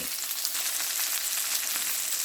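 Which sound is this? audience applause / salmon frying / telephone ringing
salmon frying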